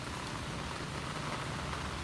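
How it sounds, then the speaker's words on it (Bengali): Heavy rain pours down steadily on a dark afternoon, a dense, constant hiss with no breaks and no voices. "এখনও প্রচুর বৃষ্টি হচ্ছে একদম ঝুম বৃষ্টি"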